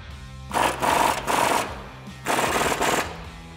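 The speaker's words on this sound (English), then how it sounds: "you're gonna switch over to the 30 socket and the 27 with your impact gun" An impact gun with a 30 mm socket tightens a nut on a 2009-2013 Ford F-150 during a Belltech lowering kit install: three loud, rapid hammering bursts of about half a second each, close by and with no talk over them.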